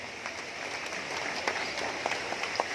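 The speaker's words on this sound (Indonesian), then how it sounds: "Mohon berikan tepuk tangan yang meriah." An audience at a formal government outreach event claps steadily in a moderate, continuous patter, with a few sharper individual claps standing out near the end.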